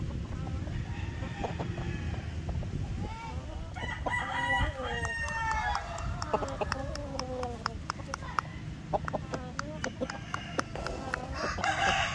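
Shamo roosters and hens on a small farm crow and cluck close by, with several overlapping calls rising and falling while someone talks underneath.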